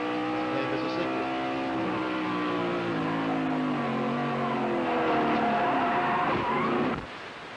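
Race car at the 1992 Pontiac Excitement 400 sliding along the wall in a wreck, a loud sustained engine drone with grinding scrape that falls away abruptly near the end.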